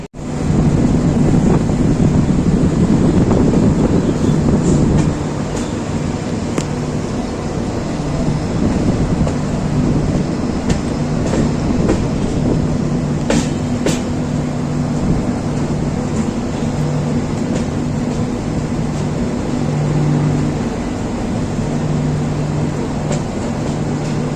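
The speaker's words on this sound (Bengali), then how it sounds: "নির্ধারিত সময়ে কিন্তু আমাদের ট্রেন এই নিউ জলপাইগুড়ি স্টেশন থেকে ছেড়ে দিল।" Vistadome coach train running just after leaving New Jalpaiguri station, a loud continuous rumble and rattle of wheels on track with wind rush, steady and close for the whole stretch.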